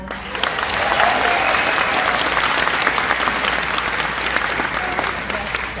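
A panel audience at an Elvis Week gathering applauds Roy Turner, the new executive director of the Elvis Birthplace, with steady, dense clapping that holds for about six seconds and a faint murmur beneath it.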